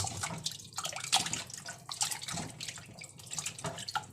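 Tap water runs and splashes in a sink as ingredients bought at a market are rinsed, a close, uneven gushing and spattering that continues throughout.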